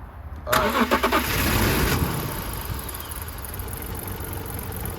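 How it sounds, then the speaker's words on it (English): A BMW E46 engine cranks with a quick stuttering whir, catches, and settles into a steady idle close by. "The car is running"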